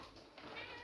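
A house cat meows a few times close by, in a kitchen where a cheeseburger and sausage muffin are being eaten, with no talk over it.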